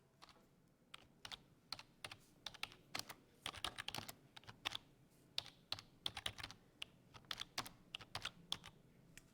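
Fingers type on a computer keyboard in quick, irregular bursts of crisp key taps, close and fairly quiet, with no voices.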